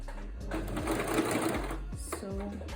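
A home sewing machine stitches a dart in fabric, its motor whirring in a steady run with a short pause and restart near the end, close and clear.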